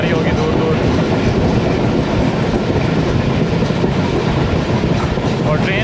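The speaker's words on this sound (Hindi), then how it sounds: "ट्रेन अब हमारी नेक्स्ट स्किप करेगी थोंकर रेलवे स्टेशन को, और स्पीड जो है अपनी बढ़ा ली है" The 102dn Subak Raftar express from Gujrat to Lahore picks up speed, heard from inside an AC standard coach as a loud, steady rumble and rattle of wheels on track with no break.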